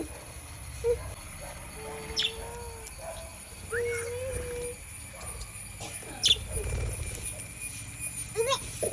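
Scattered bird chirps and soft cooing calls come and go over a low rumbling background hum, with occasional faint voices, during an early morning outdoors.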